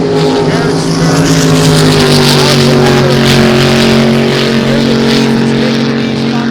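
At the Long Beach Sprint Nationals, a sprint race boat engine roars loud and continuous with a steady, slightly rising pitch, under a race announcer talking over it.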